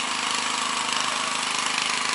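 Steady loud broadband roar of an angle grinder cutting metal pieces for building a greenhouse, continuous and unbroken throughout, heard at moderate distance with no voices.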